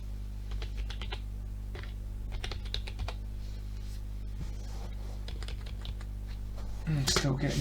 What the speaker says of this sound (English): I'm going to use the keyboard, it's a bit faster.